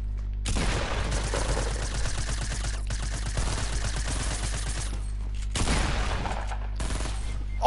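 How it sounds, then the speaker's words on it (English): Sustained, close automatic gunfire from the battle royale game Fortnite, rattling almost continuously with a short pause before a second burst. "I'll shoot him!"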